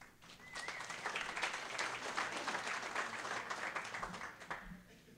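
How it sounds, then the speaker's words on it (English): An audience at a 1 Million Cups Wichita gathering applauds a speaker, a steady wash of many clapping hands held for several seconds before tapering off, heard at a modest distance. "Let's give him a round of applause"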